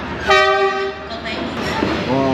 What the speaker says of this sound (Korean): 기차가 들어옵니다.